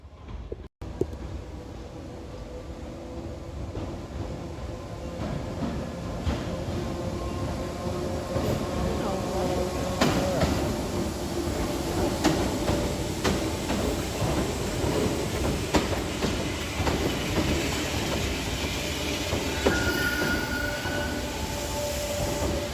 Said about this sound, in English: Well, looks like the train is here.